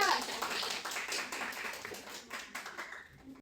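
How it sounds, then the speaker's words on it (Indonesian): A short burst of applause from a small classroom group, steady clapping fading out after a few seconds. "Tepuk tangan dong untuk Nisa."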